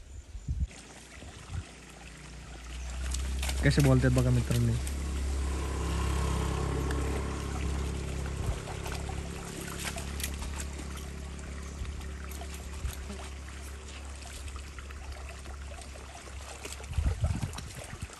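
Water flows through an irrigation channel beside rice paddies in the Satara countryside, a steady outdoor rush heard from nearby, with a low rumble and someone speaking briefly over it.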